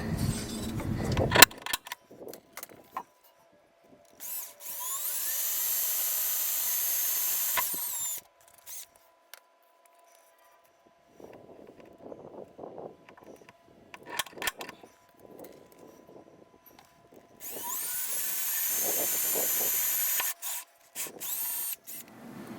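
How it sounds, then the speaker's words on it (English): A power drill bores holes into the metal body of a Sprinter camper van for a motorized step, with two long, loud stretches of high whining drilling separated by quieter rubbing and handling noises. "So now we will punch and drill the holes"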